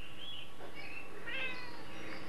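A house cat meows a few times indoors, drawn-out and moderately loud, close by against a quiet background with no talking.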